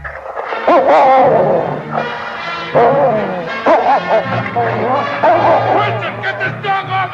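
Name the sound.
dog barking and attacking a man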